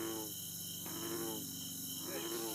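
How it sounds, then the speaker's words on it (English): Crickets and other insects on a summer night outdoors under the moon, a dense, continuous chirping chorus with steady pulsing trills, fairly close and loud. "Summer nights when the moon is out and the bugs are in full force."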